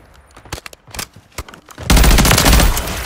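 Gunfire in Call of Duty MW3: sparse sharp single shots and clicks at first, then a loud, dense sustained burst of automatic fire and explosions, close and heavy, with no talking.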